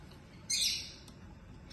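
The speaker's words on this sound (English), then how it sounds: "my birds don't want to be quiet today. They're very talkative." Pet birds in a home kitchen let out a sharp, loud squawk and chirps, followed by a brief tweet and another call near the end, with no talk.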